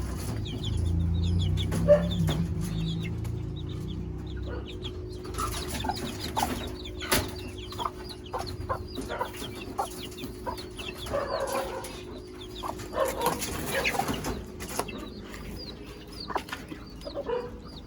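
Newly hatched chicks about four to five days old peep in a busy, high-pitched chorus alongside clucking chickens on a farm, with a low rumble early on.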